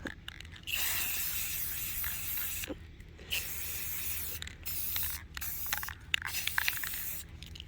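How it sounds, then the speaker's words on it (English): An aerosol can of Rust-Oleum gloss black paint hisses in repeated sprays, steady bursts broken by brief pauses, close and fairly soft, with no voices. "we're gonna go in with Rust-Oleum's Gloss Black, and we're gonna spray paint this baby"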